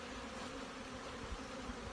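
Honey bees buzzing around a hive on a honey farm, a faint, continuous low drone of many wings heard from close by.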